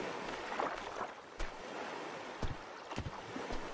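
Ocean surf in the survival video game Stranded Deep, a quiet, steady wash of waves with occasional soft thumps, heard alone at a distance.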